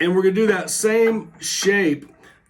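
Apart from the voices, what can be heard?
No everyday noises stand out.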